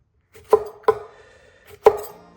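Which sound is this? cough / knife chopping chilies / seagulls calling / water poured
knife chopping chilies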